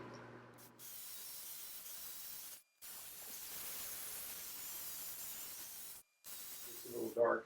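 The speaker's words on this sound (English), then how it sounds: "I'm going to begin sanding." Power sander working an unfinished wooden table top, a steady loud hiss broken by two brief stops, with a short spoken moment at the very end.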